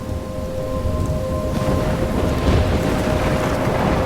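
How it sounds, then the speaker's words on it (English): Thunderstorm with steady heavy rain in the video game Life Is Strange, a continuous loud wash of downpour with a low rumbling undertone and faint sustained tones running beneath it, no voices. "I'm trapped in a storm?"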